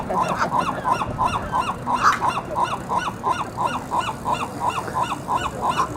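Seagulls squawk repeatedly over a pizza, a steady run of loud, evenly spaced honking calls from several birds close by, with no talk.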